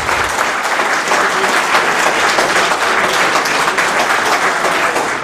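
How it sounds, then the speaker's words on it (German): Sustained applause from a small crowd in a room after a 1. FC Lok Leipzig 2:1 win over Rot-Weiß Erfurt, steady dense clapping held at an even level for several seconds with no talk. "Ich denke, das war ein großer Applaus wert für Roger Serpotz."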